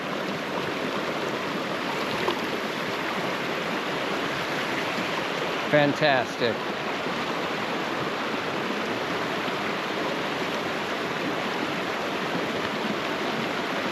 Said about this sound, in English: Deep in the woods, standing in the creek.